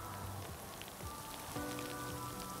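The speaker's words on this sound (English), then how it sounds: "we've had rain, we've had sleet, and now we've got hail" Hail and rain falling beside a river, making a dense, steady patter of drops on a hard surface with scattered sharper ticks; continuous and fairly close, with no talking.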